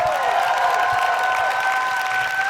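A poetry slam crowd at the Roundhouse grand final keeps up continuous clapping mixed with cheers and whistles, full and even throughout the short stretch.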